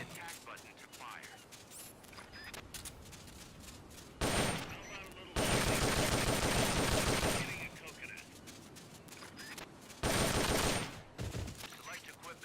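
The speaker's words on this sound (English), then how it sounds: "Select a target and squeeze off a round or two." Shooting-practice gunfire in Metal Gear Solid: Peace Walker: rapid automatic bursts in a few loud blocks, with quieter stretches between them and a voice talking at times.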